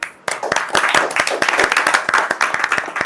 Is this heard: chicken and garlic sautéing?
no